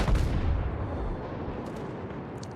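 Main guns of a German tier 3 battleship fire in the World of Warships video game: one heavy, close boom that rolls into a long, decaying low rumble.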